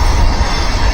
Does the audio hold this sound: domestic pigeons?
no